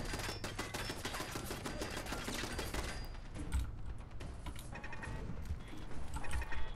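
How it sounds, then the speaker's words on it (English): Machine gun turret in Fallout 4 rattles off dense, continuous automatic bursts, loud and close, fading briefly mid-way before the chattering fire resumes with clanking mechanical noises. "Oh, it's a machine gun turret."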